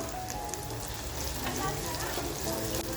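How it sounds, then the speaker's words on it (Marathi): Onion, garlic and chillies fry in a pan for a fish-with-spinach dish, giving a loud, dense, even sizzle that holds steady throughout with no break. "आपली कांदा, लसूण आणि मिरची छान फ्राय होते"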